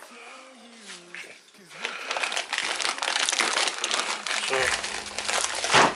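Plastic wrapping is cut away from the boost pipes of an Airtec intercooler kit for an Astra H 1.9 CDTI, close crinkling and rustling that builds into steady handling noise, with someone speaking briefly at the start.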